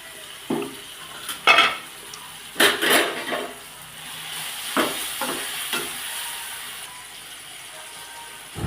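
Two tomatoes and three green chillies sautéing in a pan for parotta salna, giving a soft steady sizzle broken by intermittent scraping and stirring strokes against the pan, close and with no voices.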